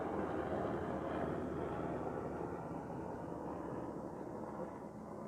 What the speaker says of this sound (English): There's a plane going over right now.